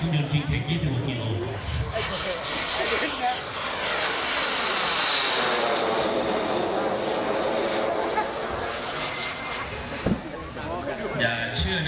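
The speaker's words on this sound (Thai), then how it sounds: "ใช้เครื่องยนต์คิงเทค26 กิโล" A 1:5 scale RC F-16 in Dutch colours with a KingTech turbine engine makes a loud jet pass at the Thailand Jet Meeting 2020, its whine rising and falling through a sweeping Doppler roar over several seconds, with voices audible underneath.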